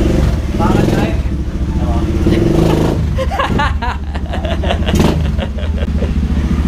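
Bristol BR 250cc scrambler motorcycle engine idling and revving, a loud steady rumble with a rise in the second half, with people talking over it throughout.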